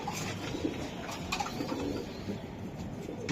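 Racing pigeons coo softly and repeatedly in a cage at a farm, with low throaty calls and faint rustles and background noise around them.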